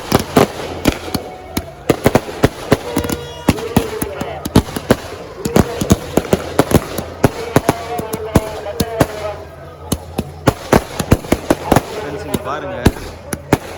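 Fireworks shells and firecrackers burst in rapid, irregular volleys of sharp cracks at a Gangai Amman temple festival in Vellore, loud and continuous over a crowd's murmur.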